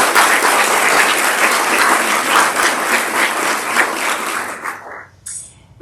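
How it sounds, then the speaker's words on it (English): An audience at a church community gathering breaks into loud, dense applause that carries on steadily, then fades away near the end. "So let's give them another round of applause."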